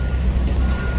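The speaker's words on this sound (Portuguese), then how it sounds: "Mais caminhão chegando." A truck arriving at a depot in Portugal, its reversing beeper and engine rumble loud and close in a short, steady burst, with no talking.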